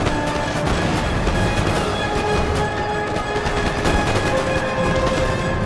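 A Napoleon Total War battle rages with ragged volleys of musket fire crackling in rapid bursts, mixed with dull thuds and a steady battlefield rumble, dense and continuous at mid distance.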